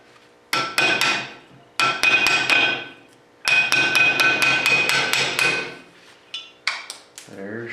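A new hammer strikes metal to drive out a stuck chunk, three quick bursts of sharp ringing blows, each a rapid series of close, loud clanks, then a few lighter taps.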